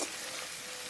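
Meat hits hot, sizzling spice masala in a curry pot, giving a brief, steady hiss of frying up close.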